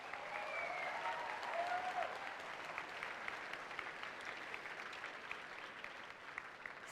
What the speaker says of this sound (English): Please give them all a wonderful round of applause.